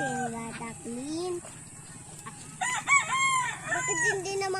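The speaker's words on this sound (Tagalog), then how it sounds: "This chicken needs a bath" Chickens on a small farm cluck and a rooster crows close by, several strained calls with a gap between them, over faint background noise.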